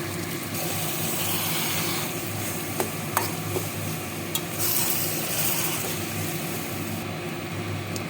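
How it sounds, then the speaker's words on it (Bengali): Mashed eggplant and tomato are stirred and fried in a pan with onion, garlic, salt and turmeric, giving a steady soft sizzle with scraping stirring strokes and a few sharp clinks. "নেড়ে চেড়ে একটু ভাজা ভাজা করতে হবে"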